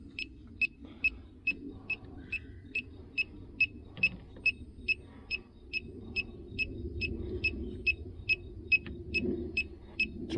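A leak detector held near the AC of a 1968 Chevelle Nomad gives a steady train of short, high electronic beeps at a regular, brisk pace, with faint low rumbling and handling noise underneath.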